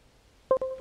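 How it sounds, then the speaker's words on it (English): A short electronic chime from a computer as a phone is plugged in over USB: two quick tonal beeps, clear and close, after a quiet stretch. "You heard that? That's just my phone"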